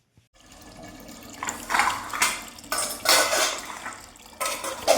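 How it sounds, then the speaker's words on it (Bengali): Washed dishes, pots and cutlery being stacked into a basket in a home kitchen, a run of close metallic clinks and clatters in irregular bursts, with brief pauses between handfuls. "সব বাসন টাসন গুছিয়ে রাখছি, দুপুরবেলা বাসন সব ধুয়ে রেখেছিলাম"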